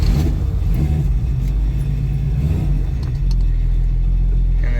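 A 1965 Ford Mustang with its stock 200 inline-six engine idles low and cold, a steady close, loud rumble that holds throughout with a slight rise in the last seconds.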